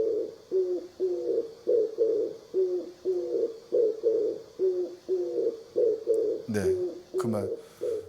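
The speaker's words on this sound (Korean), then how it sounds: "비둘기 울음소리가 이제 들릴 겁니다." A dove cooing in a steady repeated rhythm, about a dozen soft low calls, clear and fairly close, with a couple of brief louder noises near the end.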